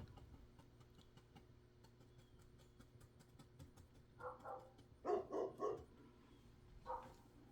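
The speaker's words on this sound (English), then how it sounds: "I don't know what he's barking at" A dog barks at a distance, a short run of about five or six faint barks in two clusters over a quiet background.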